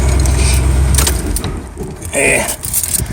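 A 1978 El Camino engine keeps rumbling and chugging unevenly after being switched off, running on while hot and idled high, with low mechanical knocking and rattles, close by.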